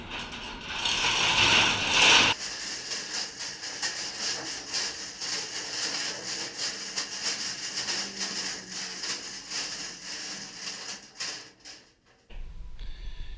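A ratchet strap is cranked to lift the bed off a 1996 Chevrolet Silverado, giving a steady, loud, continuous clicking of the ratchet pawl for most of the stretch, with a brief pause before a final few clicks.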